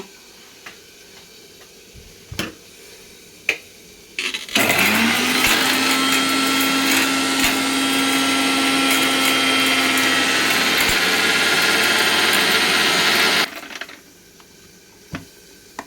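An electric grinder grinds spices, green chilli, ginger and tomato, starting abruptly into a loud, steady, high-pitched whirring roar that runs for about nine seconds before cutting off, with light clicks and handling before and after.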